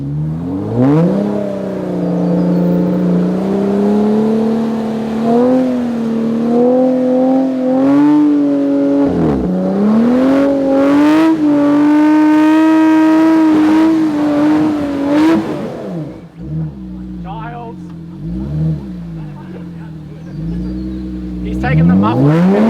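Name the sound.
Jeep Rubicon on 37-inch Maxxis Trepador tyres revving off-road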